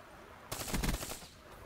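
A single quick burst of fire from an XR-2 rifle in a Black Ops video game, several rapid shots packed into half a second, fairly faint against background game noise.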